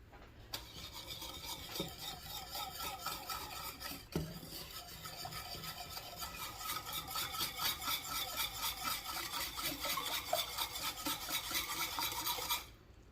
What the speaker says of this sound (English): where's my whisk? I need a whisk.